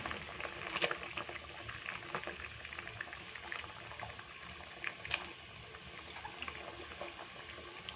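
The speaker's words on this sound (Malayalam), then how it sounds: "അരപ്പ് നന്നായിട്ട് തിളച്ചിട്ടുണ്ടേ നമുക്ക് ഈ മീനിനി ഇതിലേക്ക് ചേർത്ത് കൊടുക്കാം" Fish curry masala bubbling in a pot, a low continuous simmering burble with scattered pops and small splashes, fairly quiet and close, with no talk.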